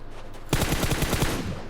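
A rapid automatic burst of about a dozen shots from a teammate's gun in PUBG Mobile, fairly close and loud, starting abruptly after a quiet moment.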